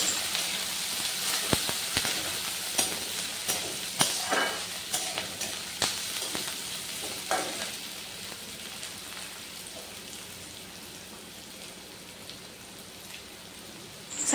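Spices and chopped ingredients for a corn snack fry in a hot pan while being stirred, giving a dense, crackling sizzle with sharp scraping clicks that gradually settle into a steadier hiss, with no voices.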